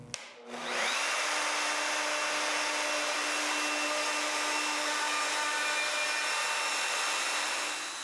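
A power drill bores mortises into wood, spinning up after a brief pause and then holding a loud, steady whine for several seconds before easing slightly at the end.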